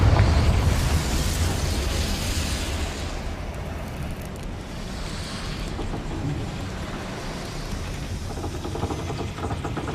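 In Hogwarts Legacy, a Confringo blasting spell sets off a fiery explosion. It comes as a heavy, booming roar that starts loud and rumbles on with a dense, crackling tail for several seconds, with no talking over it.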